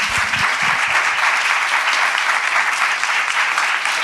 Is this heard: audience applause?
yes